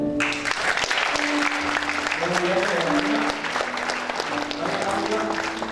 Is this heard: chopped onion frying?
no